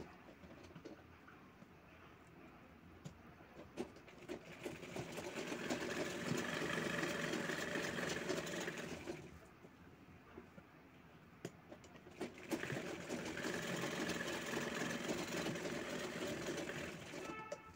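A sewing machine double-stitches a brocade blouse in two long runs, its motor hum rising and falling with a short pause between bursts, moderately loud with faint background noise.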